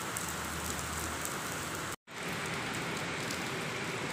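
Steady rain falling as a dense, even hiss with no pause except a momentary dropout midway, moderately close and without any voices.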